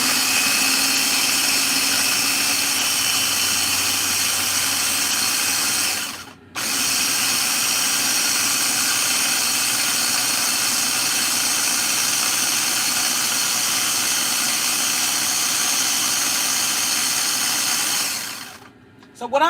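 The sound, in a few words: electric food chopper blending oil and seasoning for oxtail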